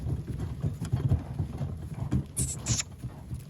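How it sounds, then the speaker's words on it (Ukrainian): Hooves clop unevenly on the ground as a working mare walks nearby at an easy pace, with a couple of high squeaky sounds partway through. "Отака кобила. Багато не треба, собі йде, чалап, чалап, ногу за ногу і поїхав."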